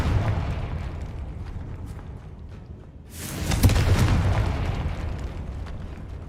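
A fiery spell blast in a fantasy video game bursts out around the midpoint as a loud, broad whooshing explosion that rumbles and decays over a few seconds, following quieter ambient rumble.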